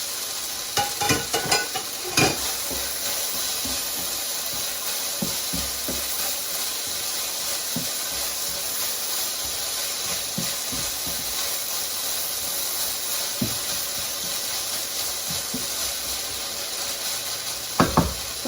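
Carrots sizzling and frying in a pan for about eighteen seconds, a steady hiss with occasional stirring knocks and clicks, close and fairly loud, no voices.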